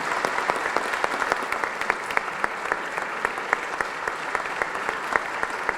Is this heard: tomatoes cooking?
no